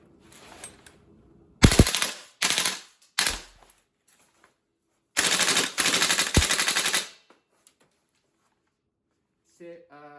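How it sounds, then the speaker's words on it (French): VFC Colt M733 gas blowback airsoft rifle firing several loud rapid bursts, with short pauses between them and a long stretch of sustained fire in the middle, close and clear with no talk. "J'ai tiré le fusil environ 30 fois maintenant et très rapidement."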